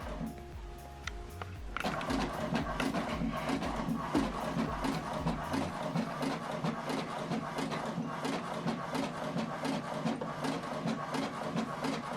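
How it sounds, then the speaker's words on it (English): An HP Deskjet printer feeds and prints a page, a brief mechanical whir followed by a steady rhythmic chugging of the print head running back and forth, close and continuous. "now the second page is printing"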